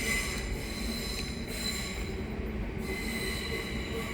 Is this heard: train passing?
yes